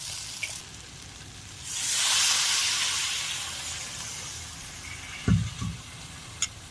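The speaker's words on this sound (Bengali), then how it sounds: "এবার এতে অল্প জল দেব, যাতে আরেকটু সেদ্ধ হয়" Jackfruit curry cooking in a pan hisses and sizzles as a little water is poured in, a broad steamy hiss that swells, then fades, followed by a couple of brief clanks.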